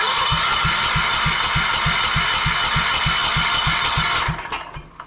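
A 14 HP small engine, formerly in a Sears machine, cranks with a rapid, even rhythmic chug and rattle for about four seconds, loud and close, then cuts off and fades.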